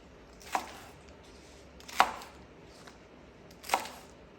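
Green onions roughly chopped with a knife on a cutting board: three separate, sharp thuds spaced over about four seconds, close and fairly quiet, with no talking.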